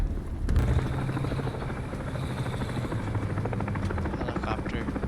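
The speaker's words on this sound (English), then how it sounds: "Helicopter." A helicopter in a military video game thumps with rapid, steady rotor beats, loud and close throughout, after a brief heavy impact at the start.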